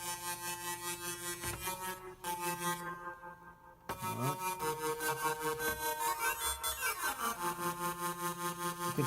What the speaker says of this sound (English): And it's a ring mod sound.